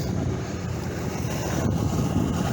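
Restored Glasstron boat idling on open water, a steady low engine rumble mixed with wind buffeting the microphone and lapping water, continuous and fairly loud with no talking.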